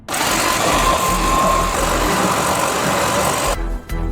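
A jigsaw with sandpaper taped to its blade runs steadily for a few seconds, a loud, even buzzing motor hum with fast reciprocating chatter, then cuts off abruptly near the end, with no voices.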